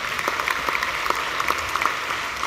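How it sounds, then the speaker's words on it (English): A round of applause at the 2013 BOBs awards ceremony, a moderate crowd clapping steadily with distinct individual claps standing out, no speech on top. "you can also give them one more round of applause for civil courage"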